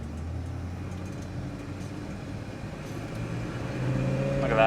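A 1965 Ford Mustang Fastback engine idles, then revs up as the car pulls away, the motor growing louder toward the end.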